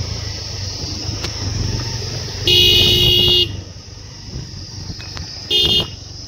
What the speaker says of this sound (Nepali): हर्न बजिरहेछ त।